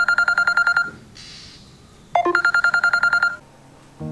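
A phone call is placed from a mobile: two bursts of rapid, evenly pulsed electronic beeps with a brief whoosh and chirp between them, loud and close with no talking.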